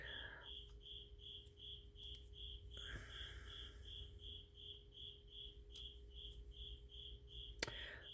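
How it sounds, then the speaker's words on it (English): A single cricket chirps in steady, evenly spaced pulses close by indoors, a loud repeating trill that carries on without a break over a faint low hum. "we've got a really active chirping cricket down here"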